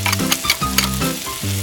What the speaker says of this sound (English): Add onions and garlic to the pan. Stir until fragrant.